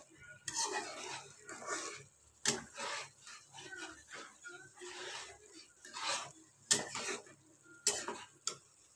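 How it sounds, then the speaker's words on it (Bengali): Fried soybean chunks go into potato gravy in a pan and are stirred, giving quiet scattered clinks and sharp utensil taps against the pan amid soft shuffling, with several distinct louder knocks. "এবার আমি সয়াবিনগুলোকে, ভাজা সয়াবিনগুলোকে দিয়ে দিচ্ছি"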